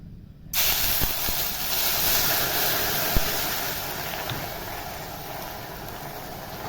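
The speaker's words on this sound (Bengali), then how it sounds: "এবার এটার মধ্যে আমি এবার পানি দেবো।" Water is added to hot caramelised sugar in a pan for a bread-and-malai dessert, giving a sudden loud, steady hiss and sizzle of steam that fills the whole stretch with no voice over it.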